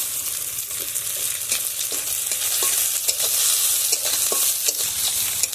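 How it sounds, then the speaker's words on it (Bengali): Curry leaves hit browned onions frying in a wok, setting off a loud, close sizzle broken by repeated scraping stirs and crackles from a spatula, with no voices. "পেঁয়াজটা ভাজা ভাজা হয়ে গেছে কারি পাতা দিয়ে দিচ্ছি"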